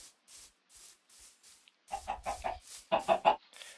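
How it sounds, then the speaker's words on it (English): Video game chickens cluck in short bursts, soft at first, then a quicker run of louder clucks toward the end. "Oh, chickens! Come here!"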